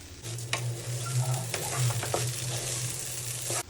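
Rice for beef biryani fries and sizzles in a pan while being stirred, a dense hiss with a few scraping strokes of the spoon over a low burner hum, close and brief without speech.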